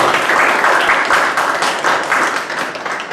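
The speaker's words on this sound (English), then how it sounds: "Let us all clap for Paulo Coelho, who has given us this beautiful gift." An audience claps steadily in a hall to honour author Paulo Coelho, a dense, even wash of applause lasting throughout and tapering slightly at the end.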